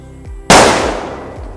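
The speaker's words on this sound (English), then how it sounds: "Launching rocket in 3, 2, 1. Lift off." A single sharp, loud whoosh-bang as a Diwali firework rocket launches from a homemade launchpad, bursting suddenly and then hissing away as it fades over about a second.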